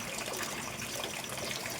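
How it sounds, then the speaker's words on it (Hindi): Heavy rain pours down steadily as a dense, even wash of water noise, close and continuous with no voices. "बारिश बहुत हो रही है"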